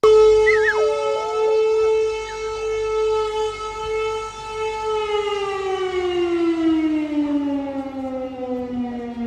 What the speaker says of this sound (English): the air raid sirens started to go off